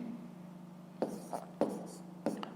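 A pen taps and scratches out a few quick strokes on paper, three short bursts close up against a low steady hum, with no talk.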